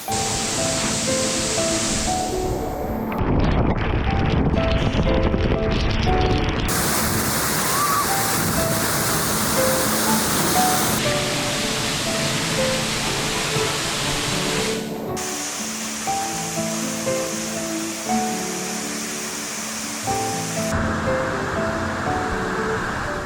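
Steady rushing roar of DeCew Falls in St. Catharines, Ontario, broad and constant, with the sound shifting between several distinct takes.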